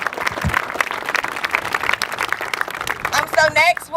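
Audience applause at a university Relay For Life survivor event, a dense burst of clapping from a crowd with a voice over a loudspeaker nearby.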